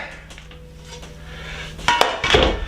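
Non-stick diamond frying pans are handled in a kitchen, a quiet hum and then a few sharp metallic clanks near the end as the pans knock together.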